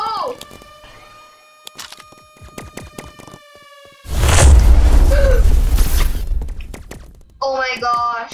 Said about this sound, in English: Luckily I didn't get hit by a nuke. Wait, who spawned the nuke?